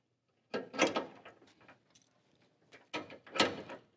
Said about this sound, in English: Now what we'll want to do is go ahead and hook our tow chains up.